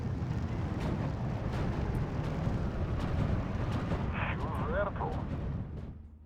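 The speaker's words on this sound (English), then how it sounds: "Looks like one of my tanks has gone down." Explosions in the video game Steel Division 2 as a tank is destroyed: a continuous wall of heavy booming blasts and rumbling gunfire, loud and dense throughout before tapering off at the end.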